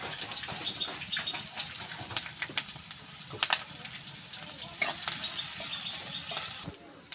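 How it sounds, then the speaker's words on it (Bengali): Chopped onions and green chilies frying in a pan, a loud close hiss and crackle of oil with occasional stirring scrapes, running steadily before cutting off near the end. "পেঁয়াজ মরিচ আমার লাল লাল করে ইয়ে করা হয়ে গেছে"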